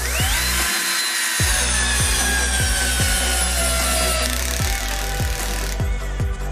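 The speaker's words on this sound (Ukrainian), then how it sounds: "Спрацювала тріщотка." A cordless drill, either a Metabo PowerMaxx or a Bosch GSR 120-LI, drives a screw until its clutch ratchets, a loud continuous motor whir punctuated by a steady train of regular clicking slips.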